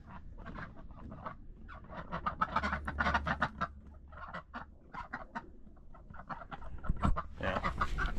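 Ducks and other fowl on a Montana homestead quack and cluck in bursts at close to middle distance, busy and irregular, with some splashing of water mixed in.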